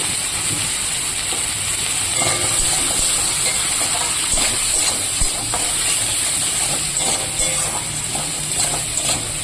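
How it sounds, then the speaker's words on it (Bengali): Black cumin, onion, chili and garlic fry in a pan of hot oil, giving a steady loud hiss with scattered crackles and pops, spoon clinks and stirring scrapes breaking through now and then; no one speaks. "কালো জিরা আর হচ্ছে পেঁয়াজ লঙ্কা রসুন দিয়ে দিলাম এগুলো কিছু আমি হালকা ফ্রাই করে নেব"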